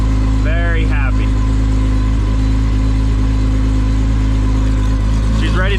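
A Chevrolet Camaro engine idles steadily at close range, a constant low hum with a faint pause in the middle, while a voice talks briefly near the start and again at the end.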